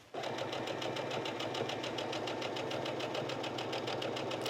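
A sewing machine stitches vintage linen for a travel bag, running at a steady fast rhythmic clatter, close and continuous after a quick start.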